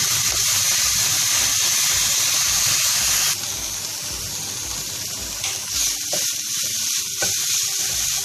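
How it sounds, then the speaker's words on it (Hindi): Whole cumin seeds roast in oil over a medium flame, giving a steady, close sizzle with soft hissing that thins out partway through, accompanied by faint stirring clatter. "साबुत जीरा डालेंगे 1 चाय का चम्मच, इसको हम अच्छे से भून लेंगे मीडियम फ्लेम पर"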